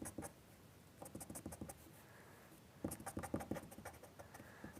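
A pastel pencil scratching on paper under heavy pressure, with quiet, close strokes in short rhythmic bursts separated by brief pauses.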